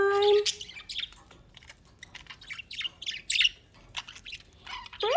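Pet budgies, freshly awake indoors with their cages open, squawk and chirp in a lively, overlapping chorus of sharp bursts that comes in waves and stays close and fairly loud.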